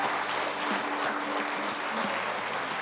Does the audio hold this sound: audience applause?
yes